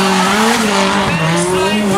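Orange Toyota 86 drift car at King of Drift Asia 2015, tires squealing loudly and continuously with wavering pitch as the engine howls through a slide, up close.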